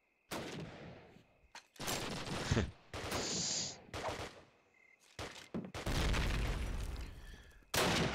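Bursts of rapid gunfire from a Call of Duty: United Offensive tournament match, loud and close, arriving in separate volleys with short gaps between them and no talking over them.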